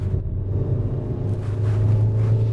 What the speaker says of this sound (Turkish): Evet bak motor sesini duyabiliyoruz